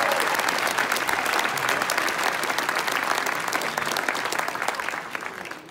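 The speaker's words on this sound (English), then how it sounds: "Round of applause for those people." Applause from a graduation ceremony crowd, a dense steady wash of many hands clapping at once that holds loud and even, then thins and fades slightly toward the end.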